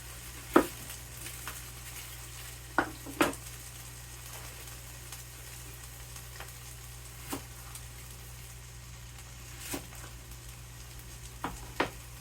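Potatoes frying in a pan give a soft, steady sizzle under a constant low hum, with a few sharp clicks and pops scattered through it, and no voices.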